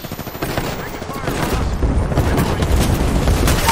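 Rapid gunfire in an Apex Legends-style battle royale match, a dense burst of loud shots and booms building over a few seconds with a voice talking over it.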